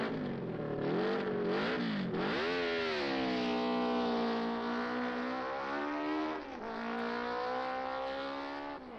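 A Kawasaki KZ650 racing motorcycle at high speed on a track, its engine note loud and close, rising and falling through revving sweeps as it accelerates and passes.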